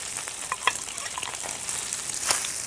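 Blanched asparagus crackles and sizzles softly in a pan of butter and lemon. Scattered spatters and pops break through a low frying hiss, with faint stirring and no talk.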